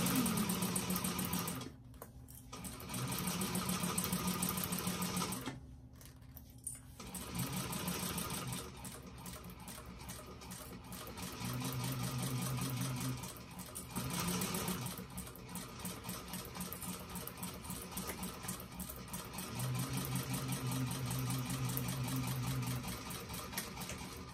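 Sewing machine stitching a Shamballa bag in green thread, running in steady bursts of rapid mechanical whirring and ticking, with short pauses between runs.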